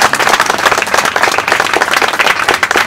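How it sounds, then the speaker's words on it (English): Applause breaks out at an outdoor community birthday celebration held at a visitor center, a dense, steady patter of many hands clapping close by for the full stretch with no speech over it. "Can we have a big round of applause for them?"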